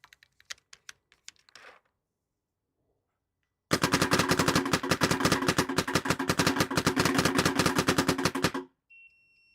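Rapid, sharp gunfire from a firearm shooting at targets at a range: a few scattered cracks, a pause, then a long dense burst of quick shots, loud and close, ending abruptly with a faint electronic beep.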